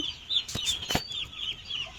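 Small chicks in a poultry farm chirp steadily in a high, continuous chorus, with a couple of sharp brief knocks or flaps cutting through midway.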